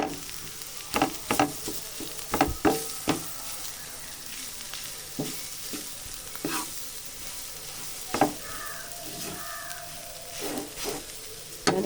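Aloo paratha potato filling frying in a pan and being stirred, a steady sizzle under repeated close scrapes and knocks of the spoon against the pan, with no talk.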